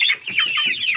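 A close, loud rooster clucking and squawking in quick, raspy bursts, a show-quality champion-breed bird with no voices over it.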